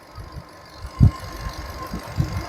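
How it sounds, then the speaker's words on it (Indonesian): Engine bay of a Nissan Grand Livina 1.5 automatic with the engine idling, heard as a low, quiet, smooth rumble with a few soft thumps. "Mesin masih terdengar sangat halus."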